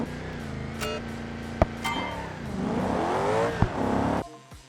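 A car exhaust in BeamNG revs up with a rising, droning roar, holds loud and close for about four seconds, then cuts off abruptly, leaving a quieter low rumble.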